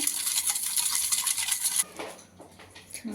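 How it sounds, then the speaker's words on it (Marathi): Quick, steady scraping and swishing of a whisk beating warm milk mixture for semolina cake in a bowl, nearby, then it slows and stops with a few softer clinks. "अशा प्रकारे चांगलं फेटून घ्यायचं"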